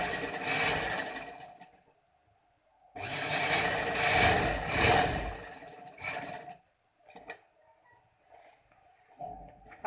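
A sewing machine stitching the button placket of a gents kurta runs in two bursts of rapid whirring, with short silent pauses between and a few faint clicks near the end.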